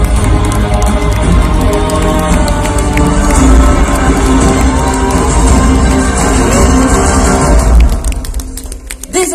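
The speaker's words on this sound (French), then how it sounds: "Des applaudissements généreux, nourris" Loud, sustained applause and cheering from a crowd at the Miss Pays de Creuse 2019 fashion show during an expo fair, dense clapping and whoops that fade near the end.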